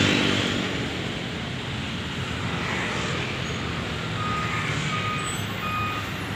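Intercity bus starting to move in a crowded terminal, steady engine and traffic rumble with faint repeating reversing beeps above it, no talk.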